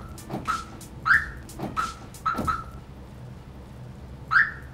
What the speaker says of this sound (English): This one's got a cool alarm.